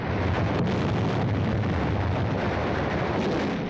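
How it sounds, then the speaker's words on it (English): Hand grenade explosions in a WWII combat newsreel: a dense, continuous roar of blasts and rumbling low thuds, loud and unbroken throughout. "Hand grenades."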